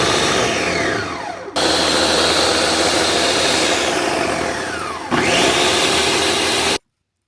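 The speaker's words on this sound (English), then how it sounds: "Now we're going to blend it all up until it's nice and smooth." Blender whirring steadily as it purees an avocado oil hair mask, loud and continuous with two brief dips in pitch around a pause, then cutting off abruptly.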